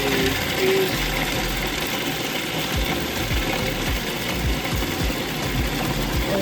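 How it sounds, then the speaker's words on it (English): An electric grinder grinding aromatic peas in a kitchen, a steady close rattling, ratcheting whir that runs continuously without pause. "Grinding the aromatic peas."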